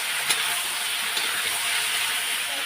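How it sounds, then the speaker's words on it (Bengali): Spices with Kashmiri chili powder sauté in hot oil, giving a steady close hissing sizzle with faint scraping from stirring throughout. "এবার কষিয়ে নেবো, নুনটা আমি একটু পরে দেবো। এখন কষিয়ে নিই।"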